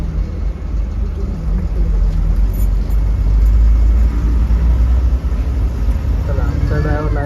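A car pulls away and drives off with its driver during a temple pilgrimage trip, a steady loud low engine rumble continuing throughout with muffled voices in the background.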